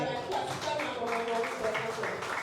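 A congregation in a church applauds, a dense wash of clapping with a voice speaking over it throughout.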